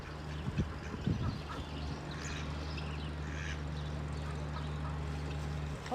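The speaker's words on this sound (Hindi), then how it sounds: "मेरी बतखें किधर हैं? वो बैठी हुई हैं।" Pet ducks quack at feeding time as grain is tossed to them, giving a few soft, scattered quacks over a steady low hum, fairly faint and at moderate distance.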